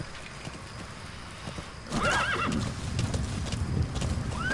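In Metal Gear Solid V: The Phantom Pain, the horse D-Horse lets out a loud, close whinny and gallops, with rhythmic hoofbeats and a second neigh rising near the end.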